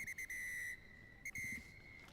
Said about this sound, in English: And that's a loud whistle by the referee